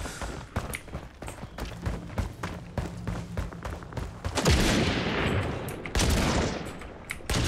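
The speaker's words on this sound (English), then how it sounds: "Where's that shooting coming from?" Gunfire in the shooter video game Caliber: dense bursts and scattered shots crackle throughout, with louder, heavier volleys near the end, mixed with game ambience and a faint voice.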